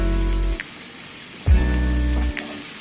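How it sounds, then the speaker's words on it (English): Onions and tomato sautéing in a pan for a ground beef and mushroom pasta dish, a steady close sizzle like light rain running throughout, with a low hum that cuts in and out. "So you see we have our onions and our tomato sauteing at this"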